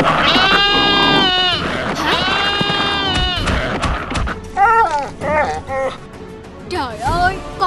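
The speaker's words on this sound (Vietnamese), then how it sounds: "Trời ơi, con cừu của tôi." A sheep in an animated Vietnamese folk-tale cartoon gives several long, wavering bleats up close, followed by shorter bleats mixed with talking voices.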